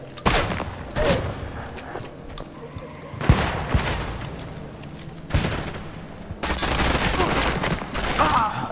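Gunfire in the video game Project Silverfish, played on Master difficulty with permadeath, crackling in bursts of rapid shots with loud impacts and pauses between volleys, while a voice talks over it.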